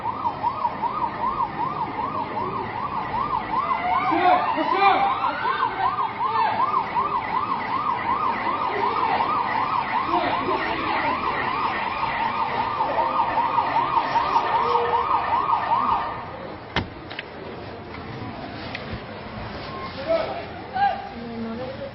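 A police car siren wails in a rapid, warbling sweep as the vehicle passes close by on a street, loud for several seconds before cutting off and fading, with traffic noise and people talking nearby.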